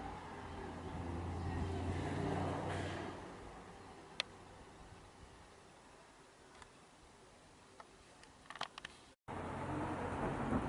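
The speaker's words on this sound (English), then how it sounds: "I know the traffic behind me is noisy" Steady road traffic rumbles behind a seaside walk, a broad continuous wash of passing vehicles that fades somewhat midway, with a few faint clicks and knocks before the traffic swells again.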